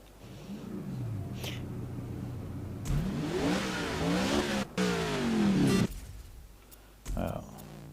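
A Holden Commodore race car in the GRID 2019 video game revs and accelerates in rising and falling sweeps, loud and close, with brief cuts in between and someone talking over it.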